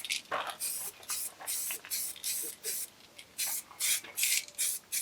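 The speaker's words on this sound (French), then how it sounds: "appliquer une bombe de peinture zinguée qui permet de protéger les parties à nu du métal" Zinc-rich spray paint hisses from an aerosol can onto bare metal in a BMW E36 325i engine bay, in about a dozen short bursts with brief pauses between them, close and fairly loud.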